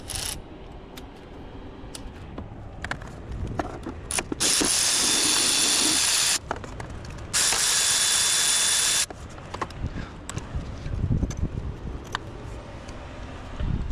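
Power ratchet spinning out the top mounting bolts of an A/C compressor on a 2017 Nissan Altima, heard as two sustained loud whirring bursts separated by quieter clicks and tool handling.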